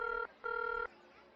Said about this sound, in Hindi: एक मिनट, फोन आ रहा है